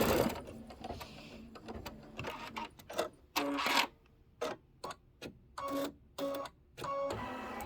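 An embroidery machine stitches quilting, giving quick mechanical bursts of needle chatter separated by short pauses. Fairly quiet and close, with no talking.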